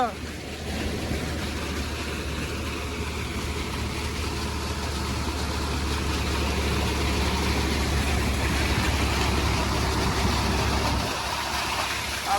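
An old Ford tractor engine runs steadily with a low, continuous rumble that stays loud and even throughout, with wind buffeting the microphone.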